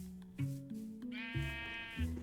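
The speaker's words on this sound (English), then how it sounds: "Hello, sheepies." Minecraft sheep bleat in a video game, several wavering bleats in a row, clear and close, with no talking over them.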